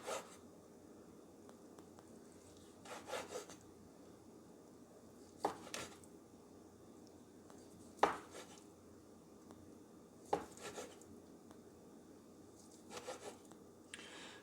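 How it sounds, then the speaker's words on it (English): A knife slicing seared ahi tuna into strips on a board, with a few soft scraping cuts and occasional light taps separated by quiet pauses, close but faint. "I want to take my tuna and cut it into strips"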